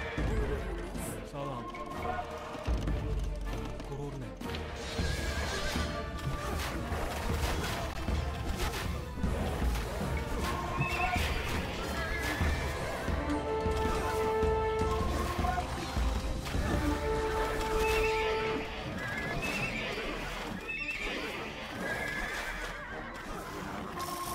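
Horses neigh and whinny amid clattering hooves and mechanical clanks in a 4v4 strategy game battle on a Black Forest map, several whinnies rising over the busy din while players talk throughout.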